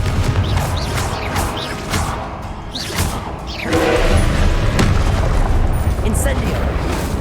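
Blasting Confringo spell detonations in the Hogwarts Legacy video game, several loud booms and crashes amid dense combat noise, with a voice talking over much of it.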